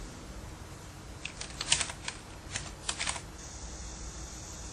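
Light, quick keystrokes on a computer keyboard while a name is entered, a short irregular burst of clicks in the middle of an otherwise quiet hiss.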